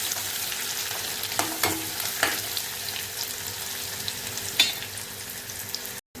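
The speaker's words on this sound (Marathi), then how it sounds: "चांगला असं तेलामध्ये कांदा परतून घ्यायचा." Chopped onion fries in hot oil for kanda pohe, giving a steady sizzling hiss with occasional stirring scrapes in the pan and no voices.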